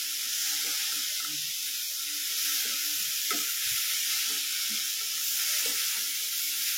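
Small shallots fry in a pan with a steady, close hissing sizzle and occasional soft stirring knocks, continuous at moderate level with no one speaking.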